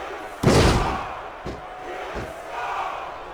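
Arena crowd at a mixed wrestling match roars suddenly after a heavy slam on the mat, followed by lighter thuds and a swelling murmur of reaction.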